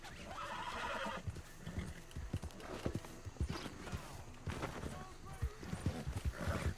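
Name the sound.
horse hooves and neighing in a video game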